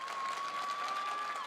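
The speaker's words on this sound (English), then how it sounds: "The slow clap from the Rocket faithful down the first base line." Slow, steady applause from a high school baseball crowd along the first base line at a state tournament game, a continuous wash of clapping at moderate distance with no voices standing out.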